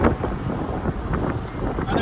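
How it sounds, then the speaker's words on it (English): Wind rushes through the open window of a Maxus T90 electric pickup on a hot day, a close, blustery buffeting roar with gusty swells over the whole stretch, and faint talk mixed in. "I know it's a bit windy"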